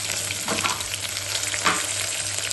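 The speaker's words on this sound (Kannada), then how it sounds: "ಈಗ ತುಪ್ಪದಲ್ಲಿ ಫ್ರೈ ಆಗಬೇಕು." Onion, cashew, coriander and ginger fry in ghee with a steady, close crackling sizzle and occasional soft stirring scrapes.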